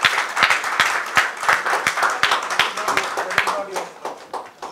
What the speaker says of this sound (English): A huge round of applause to Dr.